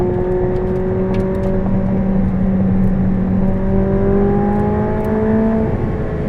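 A 2016 McLaren 675LT engine drones loudly and steadily, its pitch rising gradually as it revs toward 8,500 RPM, heard from inside or close by.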